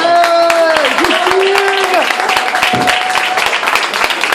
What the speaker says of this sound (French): Et applaudissez Mademoiselle Senga